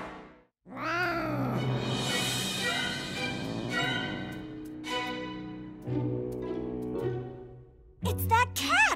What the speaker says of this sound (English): It's that cat!